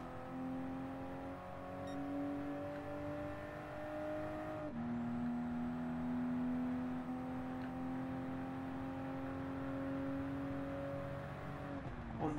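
A Toyota GR Supra RZ lapping a circuit in Gran Turismo Sport, its engine droning steadily with a rising whine through the gears, a shift dip partway, loud and close throughout with no talk.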